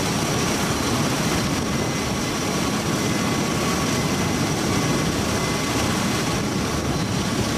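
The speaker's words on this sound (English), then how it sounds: "In the skies above international airspace, a constant stream of transport aircraft flowed." Military transport aircraft engines drone in a steady, loud, unbroken roar with a faint high whine, continuous and even throughout, no voices.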